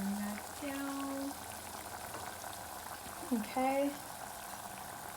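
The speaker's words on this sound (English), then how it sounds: "So now that that is sizzling" Seafood boil butter sauce sizzles softly in a pot, bubbling steadily at close range, with a brief spoken word over it.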